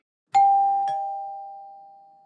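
A two-tone doorbell chime in a radio drama: a single loud ding followed by a lower dong that rings on and slowly fades, with nothing else heard.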